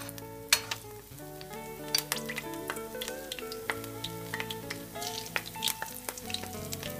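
Battered, egg-free spicy shrimp fry in plenty of oil with a busy, continuous crackle and popping sizzle, close up, while faint tonal music plays underneath.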